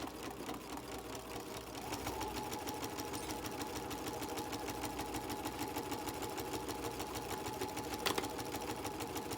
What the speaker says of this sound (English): Put your foot back down and continue to sew.